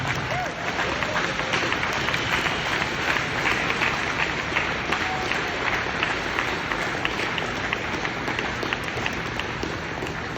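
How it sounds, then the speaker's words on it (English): An audience at a BC Cancer Foundation Tour de Cure recognition award event claps in a dense, steady roar of applause that holds loud and even throughout. "Big round of applause."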